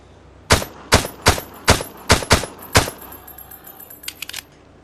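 A gun fires in the VR game Beyond Sandbox: about seven sharp, loud shots at a steady, quick rhythm, followed by a few fainter metallic clicks as the firing stops.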